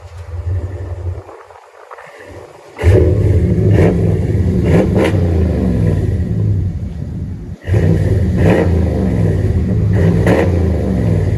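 A RAM 5.7L HEMI V8 with a Flowmaster 40 Series exhaust revs hard in two loud bursts that bounce off the rev limiter, deep rumbling idle between them, close and alone.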